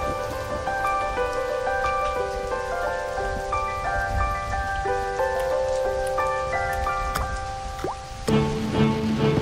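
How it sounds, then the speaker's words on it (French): Steady rain falls in a continuous hiss of drops, with a slow melodic line of sustained musical notes playing over it. A denser burst of activity comes at the very end. "Il mouille jour et nuit."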